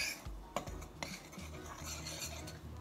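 Dry muffin ingredients with poppy seeds being mixed in a bowl, a utensil scraping and clinking against the sides in quiet, uneven strokes.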